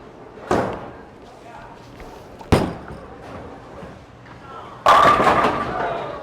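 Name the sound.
bowling ball shot with Helios benchmark ball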